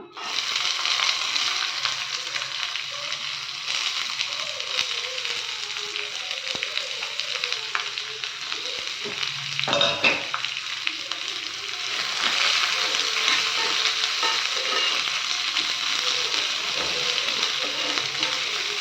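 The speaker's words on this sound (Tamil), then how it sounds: "ஆனியன் ரொம்ப வதங்கணும் அவசியம் இல்லைங்க." A large chopped onion sautéing in a pan for spicy aval pidi kozhukattai, a constant close frying sizzle throughout with a brief burst of stirring and scraping near the middle.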